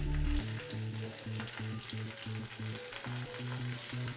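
Curry leaves and garlic sizzle steadily in hot oil in a pan, a dense, even crackle that runs throughout with light stirring and no talking.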